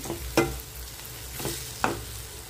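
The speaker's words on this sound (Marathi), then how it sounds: "आता यामध्ये फ्राय केलेली भेंडी आणि कांदा टाकून घेऊ।" Fried okra and onion being stirred into masala in a pan, with three distinct spatula scrapes over a soft, steady sizzle and no voices.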